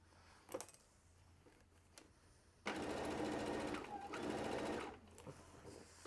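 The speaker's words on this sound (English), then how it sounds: "So difficult to sew when you're higher than the machine." A domestic sewing machine stitching fabric runs in a steady, rapid two-second burst after a few faint clicks and handling sounds, close and fairly loud in a quiet room.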